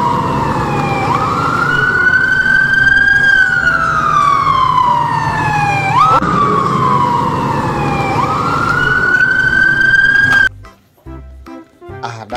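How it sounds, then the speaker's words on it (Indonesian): A red and white toy ambulance siren sounds loud and close in long, slow rising and falling wails for about ten seconds, then stops abruptly. "Mobil ambulan berwarna merah dan putih."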